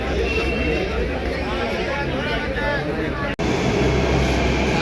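A Delhi metro train in motion, heard from inside the carriage as a steady, loud rumble and rail hum throughout, broken once by a brief dropout.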